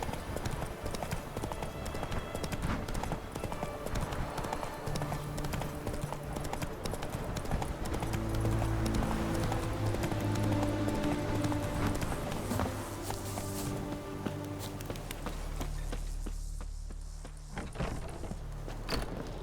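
Horse hooves clip-clop steadily on a road in The Witcher 3 video game, a continuous rhythmic trot under background game music.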